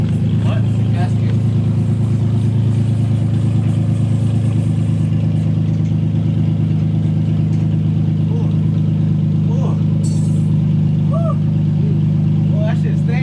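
Infiniti G37 running with no exhaust fitted, a loud, steady, raw engine drone sustained throughout, with people talking over it.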